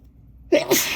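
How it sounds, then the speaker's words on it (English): A single close, loud human sneeze bursting out of silence, with a sharp intake-like onset followed by a forceful breathy release. "Ooh, I gotta sneeze."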